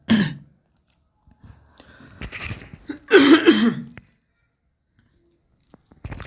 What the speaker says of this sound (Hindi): गला सूख गया, खांसी आने लगी